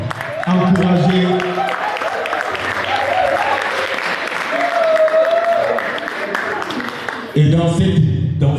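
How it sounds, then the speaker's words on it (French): A large audience at an artists' awards ceremony in Germany claps loudly and steadily for the whole stretch, with a brief surge of cheering near the end. "Cet exercice, c'est d'applaudir très fort la team qui est là"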